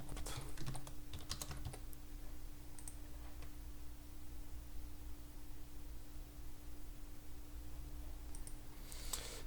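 Someone types a password on a computer keyboard, a quick faint patter of key clicks in a short burst at the start and again at the end over steady background hiss, with no talk.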